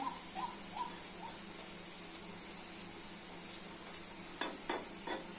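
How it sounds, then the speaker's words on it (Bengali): Food fries in a pan with a soft, steady sizzle. A few scraping stirs and light clinks of a utensil come near the end, and no one speaks. "লাল লাল করে ভেজে নিতে হবে"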